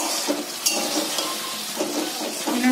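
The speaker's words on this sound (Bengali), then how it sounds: "দিয়ে একটু মিক্স করে আর একটু কষাবো" Spice masala of cumin and coriander paste for a mushroom masala fries in a pan while being stirred, giving a steady close sizzle with a few soft scrapes and clinks over about three seconds.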